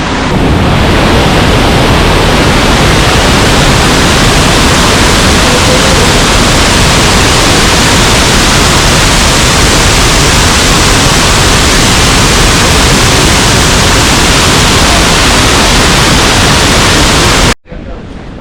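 A waterfall in Taiwan roars as a steady, dense wash of falling water, loud and close, continuing unbroken until it cuts off abruptly just before the end.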